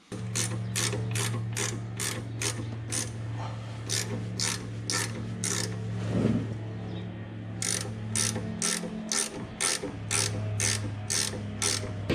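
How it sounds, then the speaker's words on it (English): A ratchet undoes the steering dampener from the drag link of a 79 Series Toyota Landcruiser, clicking in rapid, regular bursts over a steady low hum, with a brief pause midway. "Rightio, steering dampener's undone from the drag link."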